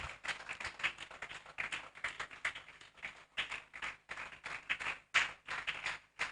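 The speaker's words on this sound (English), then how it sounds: "Just keep clapping, she will." Continuous clapping from a crowd at a health colloquium, a dense patter of hands that dips briefly near the end before rising again, with no talking over it.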